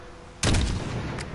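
A single loud sniper rifle shot cracks out in the Call of Duty Modern Warfare video game, sharp and close, followed by a short echoing tail and a faint second report.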